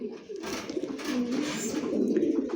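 Racing pigeons cooing in a loft, soft repeated low coos overlapping one another, fairly close, with faint background noise.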